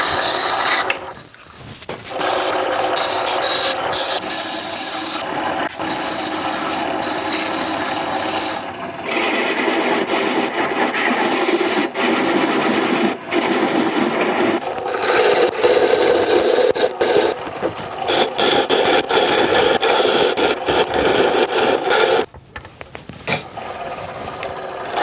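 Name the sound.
sanding inside of turned wooden lidded box with sandpaper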